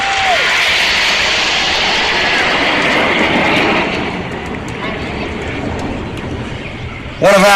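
Red Arrows jets fly in a Lancaster bomber formation at the Clacton Air Show 2013, a loud sustained jet roar that eases slightly midway and then surges again at the end.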